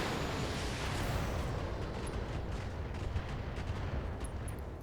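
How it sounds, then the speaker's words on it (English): Heavy mech weapons pour fire in a Battletech battle, a dense continuous roar of overlapping blasts and rumbling impacts filling the whole stretch without a break. "we're just going to shoot at it with everything"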